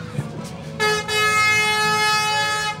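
A tow truck's horn sounds in a street parade, starting with a short blast and then holding as a loud, steady, bright honk for about two seconds over crowd background.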